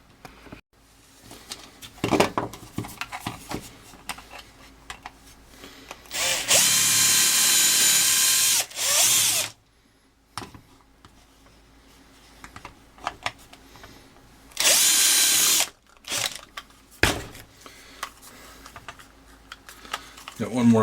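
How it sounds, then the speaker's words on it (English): A drill bores out the rivets of a failed dimmer switch in two loud, steady bursts of a few seconds each, separated by clicks, handling noises and quiet pauses. "So I'm going to drill out these rivets and we're going to open it up"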